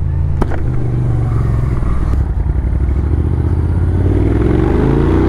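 A Moto Guzzi V7 Racer motorcycle engine rumbles loudly up close, pulling away at low speed with a steady, throaty drone and slight rise in pitch.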